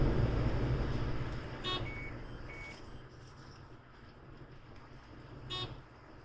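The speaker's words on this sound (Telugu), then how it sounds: "మీరు దీని యొక్క బీప్ సౌండ్ని చూడవచ్చు. 80 km క్రాస్ అయ్యగానే" Overspeed warning chime in a 2020 facelift BS6 Datsun redi-GO as it passes 80 km/h: a couple of short, thin beeps sound over steady road and engine drone, with no talking.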